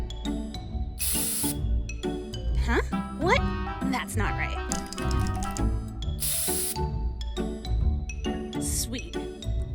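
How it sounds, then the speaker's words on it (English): Bursts of spray paint hissing from an aerosol can in a kids' skateboard-building scene, two loud broadband blasts a few seconds apart over busy music, with a voice speaking briefly. "Spray paint."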